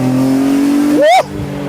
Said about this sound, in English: the higher you start to revving this engine, the more clear and clear it gets to you